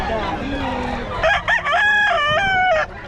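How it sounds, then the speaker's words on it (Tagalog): Several gamecocks crow loudly one after another close by at a cockfighting event, their calls overlapping, after a stretch of background chatter. "Daming manok eh"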